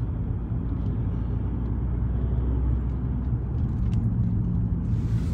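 A car drives through Clacton town centre at Christmas time, a steady low engine and road rumble heard from inside, with no one speaking.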